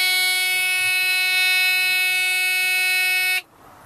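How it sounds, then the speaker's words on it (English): A loud, steady electronic low air pressure warning buzzer in a commercial truck drones continuously for a few seconds with the key on and engine off, then cuts off abruptly, leaving a quiet hum. "We'll wait for these alarms to go off"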